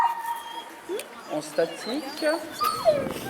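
A short-haired Belgian Shepherd herding dog at a demonstration whimpering in repeated high, rising whines and yips, fairly near, with someone talking over it.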